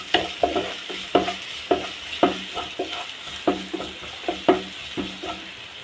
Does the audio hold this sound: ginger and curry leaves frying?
yes